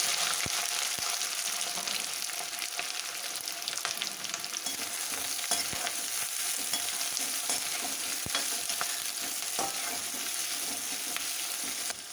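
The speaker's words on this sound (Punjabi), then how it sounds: "ਲਸਣ ਜਦੋਂ ਫਰਾਈ ਹੋ ਜਾਏਗਾ ਇਹਦੇ ਵਿੱਚ ਅਸੀਂ ਪਿਆਜ਼ ਪਾ ਦਾਂਗੇ" Onions with garlic and cumin frying in hot oil for baingan bharta, a steady close sizzle and crackle running throughout with occasional sharp spatter pops and stirring clicks, no talking.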